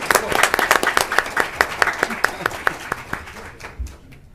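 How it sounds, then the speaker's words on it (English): An audience at a Linden freeholder meeting applauding Freeholder Angel Estrada, with sharp, distinct claps in a fairly quick rhythm that thin out and fade near the end. A voice is heard faintly. "let's give him a big round of applause for all his work in our community"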